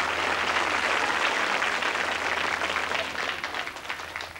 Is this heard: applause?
yes